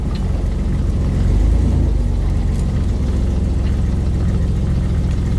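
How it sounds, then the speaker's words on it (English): A rough, blown 4.3 engine idles and revs unevenly nearby, with a low, uneven rumble and faint irregular knocking as loose parts flop around inside, steady throughout with one brief surge. "I can hear something flopping around inside the engine."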